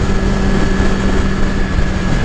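A 2018 Suzuki GSX-R1000 motorcycle engine drones loudly and steadily as it pulls through its power band, mixed with strong rushing wind noise.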